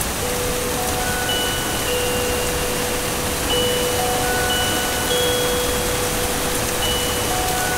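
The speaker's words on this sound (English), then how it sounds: "The bone-dry coral thirstily drinks up the first of the fat raindrops." Steady, dense rain hiss falling on dry coral ground along a coast, continuous and even, with faint tonal insect-like lines threading through; no voices.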